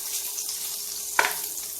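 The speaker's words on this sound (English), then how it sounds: "we're going to heat up the butter. And we're going to get this all melted down" Butter heating in a pan for apple turnovers gives a faint, steady sizzling hiss, with one brief clink or stir partway through.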